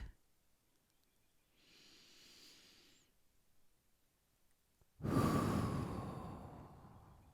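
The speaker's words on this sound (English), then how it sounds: "Keep breathing. Make your breaths deep." Slow, deep breathing during a guided somatic meditation: a soft, airy inhale, a pause, then a long, louder exhale that fades gradually, close and unaccompanied by talk.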